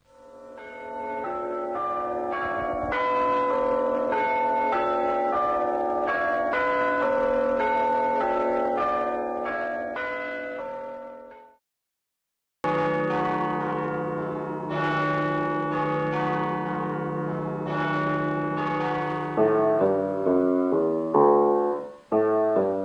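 Church bells cast by the bellfounder Henry Penn ring out in Peterborough, loud and resonant. A steady peal runs for several seconds and breaks off briefly, then a second round begins that grows busier, with faster strikes near the end.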